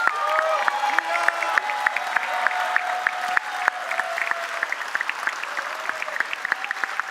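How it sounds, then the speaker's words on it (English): At a large closing event, a live audience breaks into sustained applause with crisp individual claps over a thick crowd wash, lightly mixed with cheering and a faint tonal hum underneath. "let's give a big round of applause to Jamia"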